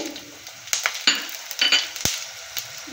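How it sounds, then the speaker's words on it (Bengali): Dried red chillies and coriander seeds sizzling in hot oil in a pan, a steady fry hiss broken by several sharp clinks and scrapes of a utensil against the pan. "তেলের মধ্যে আমি শুকনো লঙ্কা দিয়ে দিলাম"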